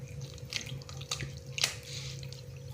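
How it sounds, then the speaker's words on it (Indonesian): Water trickled gradually into risole batter in a bowl, a soft, faint splashing and dribbling with a few sharper drips and clinks over a steady low hum, no voices. "Kita masukkan airnya secara bertahap, tambahkan lagi airnya"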